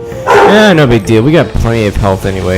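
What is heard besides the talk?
dog barking, brother's dog Dexter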